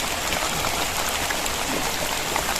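Steady rain falls in a dense, even hiss of pattering drops on nearby surfaces, constant and fairly loud, with no voices.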